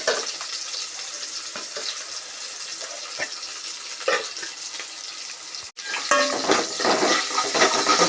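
Chopped onion and curry leaves frying with popping mustard seeds in a pan for horse gram rasam, a steady, fairly close crackling hiss with a brief dropout, then louder frying, no voices.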